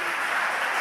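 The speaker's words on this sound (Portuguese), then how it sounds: "dê um forte aplauso a Ele" A church congregation applauds together in a steady, dense wash of clapping that holds evenly throughout, loud and close with no voices rising above it.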